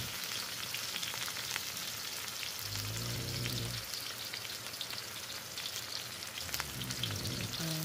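Garlic and onions sautéing in oil, a soft, steady sizzle with light crackles and occasional stirring, fairly faint, with a low hum rising briefly in the middle and near the end.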